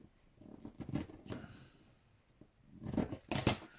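Scissors trimming fabric for a stitched duck cushion, giving close, crisp snips in two short clusters separated by a quiet pause.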